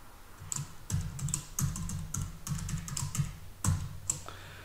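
Password typed on a computer keyboard while setting up a DigitalOcean droplet server: a quick, irregular run of close, crisp key clicks in bursts, with no talk.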